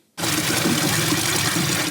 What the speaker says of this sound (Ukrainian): Мешканець Марківки Ігор набирає додому води із джерела.